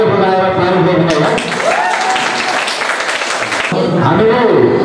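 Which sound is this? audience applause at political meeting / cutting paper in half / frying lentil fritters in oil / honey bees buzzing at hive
audience applause at political meeting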